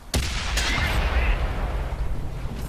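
A tank cannon shot in World of Tanks on Xbox, fired from a hull-down position by an STA-1: one sharp loud blast followed by a rolling low rumble and the engine's steady drone.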